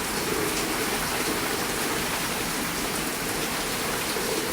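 Heavy rain pours down during a thunderstorm, drumming onto outdoor chairs and surfaces in a dense, continuous hiss. It is loud and close, with no voices and no breaks.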